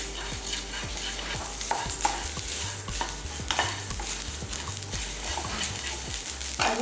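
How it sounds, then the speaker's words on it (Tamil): Tamarind and spices dry-roasting in a pan, stirred with a steady rhythm of scraping strokes over a light continuous sizzle, close and moderately loud with no voices. "இதையும் ஒன்றா சேர்த்து வறுத்துக்குங்க"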